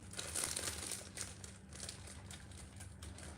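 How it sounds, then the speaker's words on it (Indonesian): Thin plastic sheet crinkles as it is laid over drying modeling clay, a close, busy rustle of crackles with a sharp burst near the start, then steady softer crinkling throughout. "tutup lagi sama plastik"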